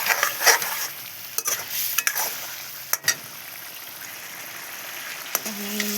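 Fish pieces for a Bengali fish curry are seared and stirred in a hot pan, a steady close sizzle broken by the scrape and clack of a spatula against the metal.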